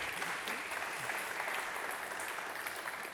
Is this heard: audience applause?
yes